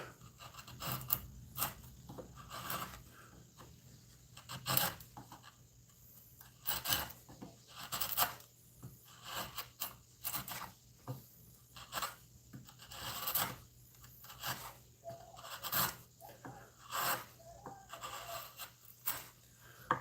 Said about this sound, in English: I'm using my chisels for regular woodworking, and these are nice and sharp